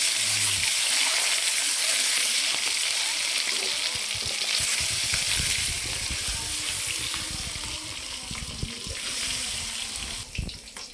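Eggs fry in a pan with a loud, steady sizzle and crackle close by, while occasional knocks and clatters of utensils sound toward the end.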